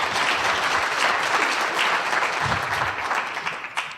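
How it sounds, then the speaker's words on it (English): A town meeting crowd in a hall gives a round of applause for the Select Board, steady dense clapping at moderate distance that gradually thins toward the end. "And so let's give them a round of applause."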